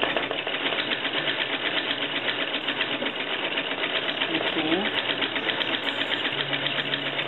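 A National two-spool sewing machine fitted with a home-made darning foot stitches continuously, giving a fast, steady, close mechanical whirring and clatter that runs unbroken throughout.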